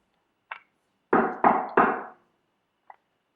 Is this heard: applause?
no